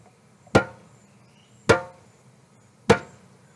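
Three deep djembe bass strokes, evenly spaced about a second apart, each a sharp thump that quickly fades.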